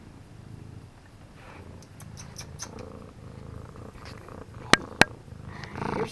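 Pet cats purr softly and steadily, a faint continuous rumble close by, with a few small clicks and two sharp taps near the end.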